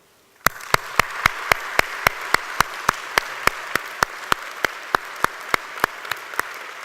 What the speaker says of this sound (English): giving your friends and your families and your lecturers and your supporters a huge big round of applause